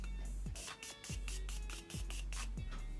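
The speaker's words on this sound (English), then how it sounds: "I'm going to spray." Makeup setting spray misted over a finished foundation look, giving several short hissing bursts in a steady rhythm, close and fairly loud, with no talking.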